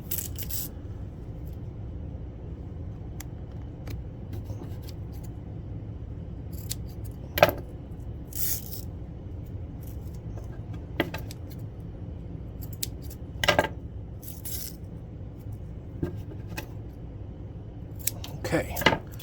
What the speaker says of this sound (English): let's cut our 4 strips of tape that we're going to use here